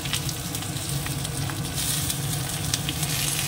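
Curry tipped into hot oil with cumin seeds and green chillies hisses in a loud, continuous sizzle close by, a dense frying crackle with occasional stirring scrapes and no talk.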